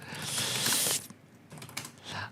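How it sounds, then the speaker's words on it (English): Typing on a computer keyboard during a haptic VR glove session, a quick burst of soft clicking keystrokes followed by a pause and then a few scattered taps, close and fairly quiet. "as I'm typing this"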